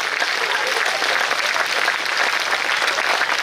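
Sustained, dense clapping from an audience gathered at a government school's platinum jubilee event, loud and even for the whole stretch.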